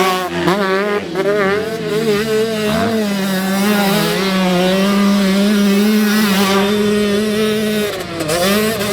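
A 2025 TM 125 two-stroke motorcycle engine revving loudly nearby, its high buzzing pitch climbing and dropping through several throttle blips and held runs, with no voices over it.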